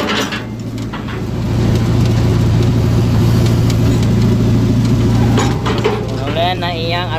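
A Hitachi Zaxis225USR-3 excavator engine with a throttle dial fault runs steadily at raised RPM, a loud continuous low drone and hum that fills the whole stretch, with no clear talk over it.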